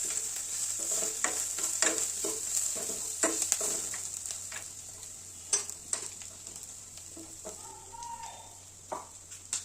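Onions, green chillies and dal fry in a pan for ragi flour paniyaram, giving a continuous bright sizzle close by with intermittent stirring scrapes and soft taps throughout.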